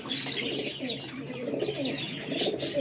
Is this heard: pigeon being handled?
yes